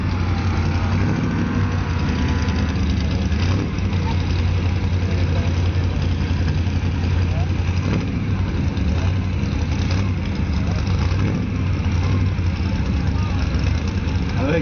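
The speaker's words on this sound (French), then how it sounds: "une Big Skylar de 66 avec un V8 de 5 litres de cylindrée" The 5-litre V8 of a 1966 Buick Skylark rumbles continuously at a drag strip, a steady low engine drone under a French commentator's voice.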